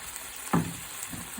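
Shrimp and shrimp heads frying in a hot pan, a steady sizzle broken by a sharp utensil knock and a few stirring scrapes, heard up close with no one speaking.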